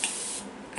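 Disinfectant spray fires from an aerosol can, a single short hissing burst that is close and clean, with no talking.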